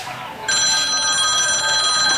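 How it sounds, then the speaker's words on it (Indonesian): A telephone rings in a Sundanese comedy sketch, a bright, steady electronic ringtone of shimmering high tones that starts abruptly a moment in and continues loud and close until the end, with no talk over it. "Lawanya ya telepon."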